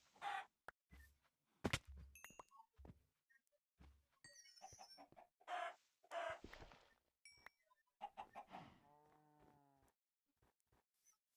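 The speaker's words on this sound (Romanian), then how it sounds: "Stai să mai omor și găina asta" Chickens in Minecraft cluck in short, scattered bursts with gaps between them, alongside other game effects such as a wobbling tone near the end, with no talking.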